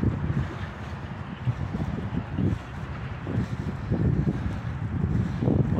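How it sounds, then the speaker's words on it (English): Gusty wind buffets the microphone outdoors on a sunny South Carolina day, a steady low rumble with stronger gusts rising and falling. "It's windy today."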